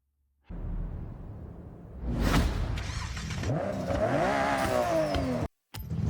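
A Nissan Skyline GT-R R34's turbocharged inline-six engine fires up and revs hard, rising and falling through a raw, mechanical roar before cutting out briefly and catching again.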